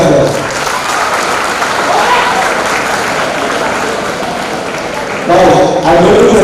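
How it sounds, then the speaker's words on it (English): Audience at a chartered accountancy students' conference applauding the dignitaries, a loud continuous burst of clapping filling the hall, swelling again toward the end, with a voice briefly heard over it. "Let's clap for all these as well."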